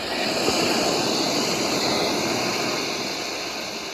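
Steady ocean surf washing onto a beach, a continuous broadband roar of breaking waves that holds even and fairly loud throughout, with no voices.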